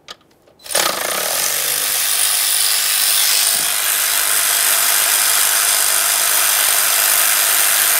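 A power tool whirs steadily and loudly up close while removing a mounting bolt on a 2015-2020 Ford F-150 with the 3.5L V6 during ignition coil work, starting abruptly after a brief quiet moment.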